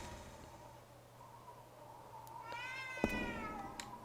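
A cat in the horror video game Ju-On The Grudge lets out a drawn-out, wavering meow over a low background hum, fairly faint and heard alone.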